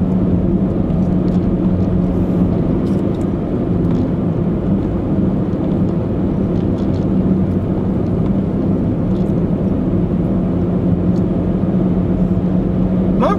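Steady, constant road rumble and engine drone from inside a car driving at night along the Noto Peninsula, with faint ticks over the unbroken low hum.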